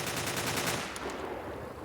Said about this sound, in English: I don't recall P90s being that loud.